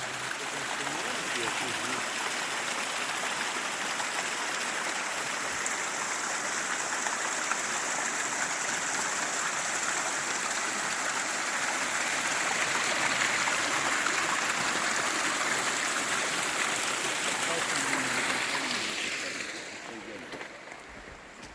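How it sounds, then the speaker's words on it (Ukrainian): Steady rushing splash of a small waterfall, close and continuous, fading somewhat near the end. "Ось такий маленький водоспадок знайшли."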